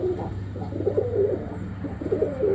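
Pet pigeons cooing close by on a cold day, soft throaty coos repeating in short rolling phrases over a low steady background hum.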